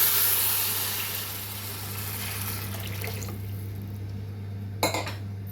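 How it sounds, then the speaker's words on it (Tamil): Water pours steadily into a pot of rice for coconut rice over a constant low hum, the flow gradually easing, with a brief clink near the end. "இப்போ தேவையான அளவு தண்ணி ஊற்றிக்கலாம்."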